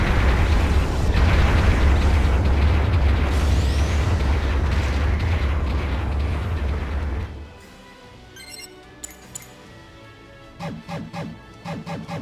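An enemy mobile suit blows up in a mecha video game, a loud, sustained explosion with deep rumbling debris that cuts off abruptly, followed by quieter scattered clicks and short bursts of game sound.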